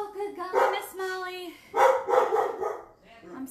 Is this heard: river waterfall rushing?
no